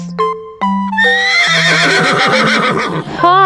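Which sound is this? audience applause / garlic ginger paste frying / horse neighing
horse neighing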